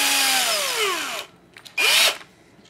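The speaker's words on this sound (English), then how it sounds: "I like to use an electric drill to thread this stuff in." An electric drill threads rod into rod ends with a loud motor whine that winds down over about a second, then a short second burst spins up and stops again.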